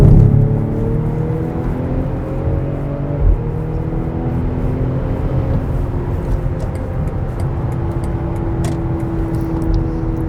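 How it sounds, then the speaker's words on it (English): A 2019 BMW X5 with a straight-six single-turbo engine accelerates in sport mode off a highway ramp, heard from inside the cabin as a steady, loud engine drone with rising tones and constant road noise. "The acceleration and pickup speed is great for the BMW X5"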